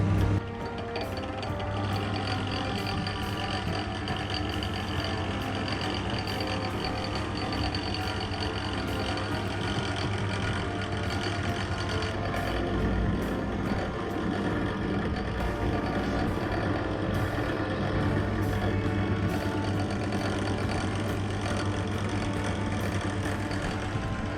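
A TIGER T13 13mm drill press runs steadily at slow speed, a continuous mechanical hum and rattle with a low motor drone, close and unbroken for the whole stretch.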